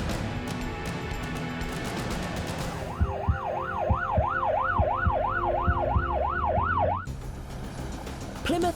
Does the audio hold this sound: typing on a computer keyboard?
no